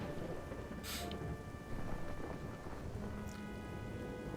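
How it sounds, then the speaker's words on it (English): A rainstorm with thunder in the video game Wallace and Gromit: Last Resort: a constant soft downpour hiss with rumbling thunder rolling underneath and a couple of sharp cracks, with no voices. "It's absolutely raining dogs and dogs out here."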